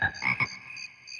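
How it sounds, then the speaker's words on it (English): A frog croaks in a short cluster of raspy pulses, close and fairly faint, trailing into quiet high chirps. "Wow, a frog."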